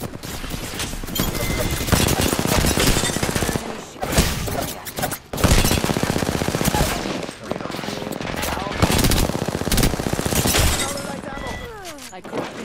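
Dense video game gunfire rattles in rapid automatic bursts, almost without a break, with shattering and impact hits mixed in. A player talks over the shooting, and a few short gaps interrupt the firing.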